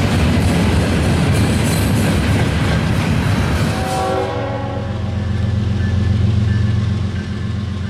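A westbound train passes at Chesterton, Indiana, its horn blaring loud and close over heavy rail rumble, then the horn cuts off and a steady clickety-clack of wagons rolls on.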